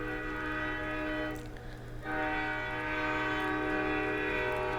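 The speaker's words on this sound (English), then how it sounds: "Some of the train horns go on like that" A train horn in the video game Lord of the Rings Online sounds as a long, loud, sustained blast. It breaks off briefly partway through, then resumes steadily, with no talking.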